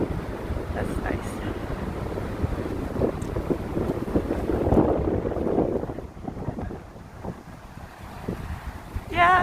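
Strong cold wind on a Gangnam street in Seoul, buffeting the microphone with gusty rumbling roar that swells in the middle and eases later, with a person talking intermittently underneath.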